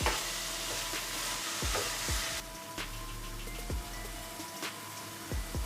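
Ginger garlic paste and chicken being stirred in a hot pan for Tamil chicken kulambu, with a steady frying sizzle and repeated scraping strokes of a spoon against the pan, close and fairly loud.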